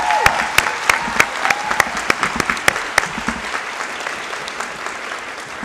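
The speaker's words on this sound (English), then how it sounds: "recognize her with our applause" Audience applause for the valedictorian at the SUNY Westchester Community College spring commencement ceremony, a steady wash of clapping with sharp individual claps standing out, fairly loud and continuous, thinning slightly toward the end.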